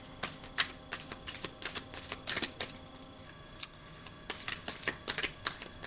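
A deck of tarot cards is shuffled by hand in quick, repeated bursts of papery riffling and slapping, with short pauses between them. The shuffling is close and no one speaks.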